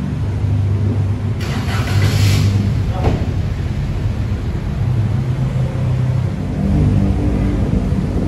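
A pickup truck drives past in a steady, loud engine rumble with road noise that swells slightly and stays constant throughout, with no voices.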